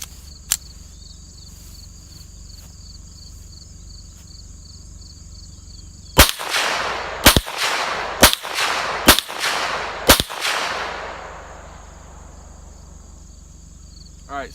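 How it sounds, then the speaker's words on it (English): A Smith & Wesson SW22 Victory .22 pistol fires CCI Stinger rounds: five sharp, loud shots in a quick, slightly uneven series, each ringing out briefly, after a quiet stretch of outdoor ambience with insects. "we're going to be shooting 20 rounds of CCI stingers"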